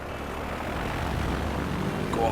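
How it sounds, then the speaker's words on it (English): A propeller plane in a 1925-era Transport Fever game throttles up for takeoff. Its engine gives a steady, fairly quiet drone that swells slightly toward the end. "And the tail lifts up, and off we go. Very nice takeoff."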